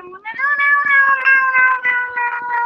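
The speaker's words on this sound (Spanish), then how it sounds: "Es una sirena en forma de gatito." A cat-shaped siren in the video game Among Us gives a loud, close, drawn-out meowing wail with a slightly wavering pitch that runs the whole time, with no talking over it.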